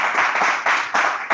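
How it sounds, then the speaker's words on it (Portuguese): Church congregation clapping hands in praise during a worship service, a brief burst of loud rhythmic group claps in even pulses, close, no talk. "Vamos louvar o Senhor com palmas bem fortes para Jesus"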